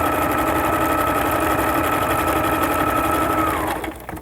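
A sewing machine stitches a row of decorative stitches through fabric, a steady, close mechanical whir with rapid rhythmic needle clatter that runs continuously for about three and a half seconds, then winds down and stops.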